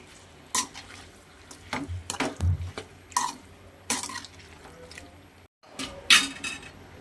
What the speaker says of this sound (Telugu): ఇప్పుడు మనం దాన్ని మిక్స్ చేసుకుందాం.